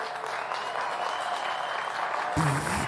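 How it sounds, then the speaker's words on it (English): A graduation ceremony audience claps in a sustained, dense wave of applause, fairly loud throughout, ending with a short burst of other sound. "He just heard other people clapping"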